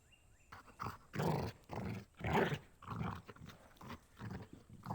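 A dog in the western video game Rosewater growls and snarls in repeated low rumbling bursts, close and loud, with short pauses between.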